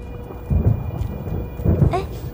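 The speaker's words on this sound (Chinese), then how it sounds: "雨要下大了。" Rain falls steadily while two deep rolls of thunder rumble close by, the second followed by a brief higher tone.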